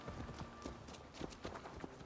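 Horse hooves clip-clop in an Assassin's Creed Valhalla game, a steady rhythmic series of hoofbeats at walking pace, moderately close and fairly faint, with no speech over them.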